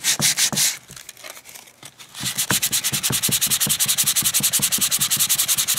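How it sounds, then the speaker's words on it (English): Hand sanding of a wooden clock piece with sandpaper, a steady run of close, loud, rhythmic back-and-forth rasping strokes, quieter and uneven at first, then regular and even. "Just sanding this down to get it all as smooth as I can."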